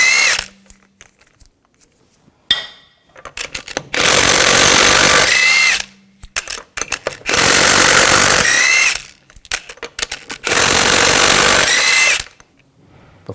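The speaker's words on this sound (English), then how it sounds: "Take these lug bolts out." Impact tool spinning off lug bolts on a 2000-2006 BMW X5 wheel with a 19mm socket, three loud bursts of roughly two seconds each separated by short pauses with clicks and handling noises.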